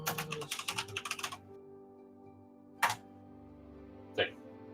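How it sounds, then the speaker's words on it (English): Quick burst of typing on a computer keyboard, a dense run of close, light key clicks over the first second and a half, then quiet with two isolated sharper taps later. "I'll type in real quick."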